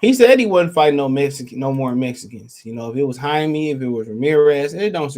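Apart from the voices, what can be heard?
No distinct noise like a dog, phone or traffic.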